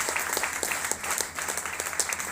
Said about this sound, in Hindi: एक जोरदार तालियां उनके लिए होना चाहिए